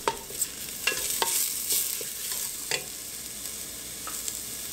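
Onion and other ingredients for a country soup sizzle in a pan while a spoon scrapes and stirs, sending out irregular clacks over a constant frying hiss.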